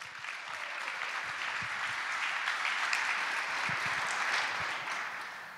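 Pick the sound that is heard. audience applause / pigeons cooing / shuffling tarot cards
audience applause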